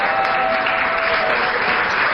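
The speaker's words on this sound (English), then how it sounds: "I think I need a better round of applause" Studio audience at a live Ghanaian television talk show breaks into brief, dense applause, a steady burst of clapping lasting about two seconds.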